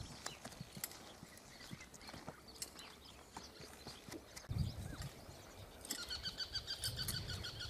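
Hooves of a sorrel working horse clip-clop steadily as it is ridden through its gaits, a close, uneven patter of hoofbeats with a brief louder thump midway and livelier rustling near the end.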